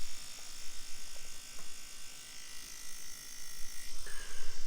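A pen-style tattoo machine powered by a battery pack runs with a steady high-pitched electric buzz, heard close and fairly quiet with no talking.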